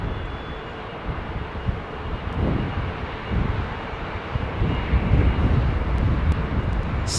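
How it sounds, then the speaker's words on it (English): A Qatar Airways Boeing 777 climbs out from Heathrow, a broad low jet roar that builds gradually in the distance beneath gusty wind buffeting. "catch this Qatar triple"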